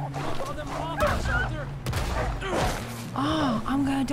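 Gunfire in Red Dead Redemption 2, a few bursts of shots buried under a steady game soundtrack and a player talking over the action.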